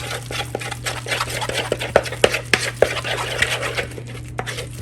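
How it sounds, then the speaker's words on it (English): Homemade fish food being stirred by hand, a mix of ingredients including Chroma Boost pellets, giving close, irregular scraping, rattling and tapping against a bowl, with louder knocks in the middle. "Let's mix it all up."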